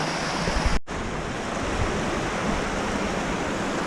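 Constant loud rushing of the Łęg river fills the scene, a dense steady roar with one brief dropout near the start.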